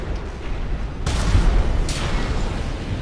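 An Armored Core 6 pressure chamber is destroyed with a heavy, booming blast about a second in. A second explosive rumble follows shortly after, and a deep, roaring low end sustains throughout.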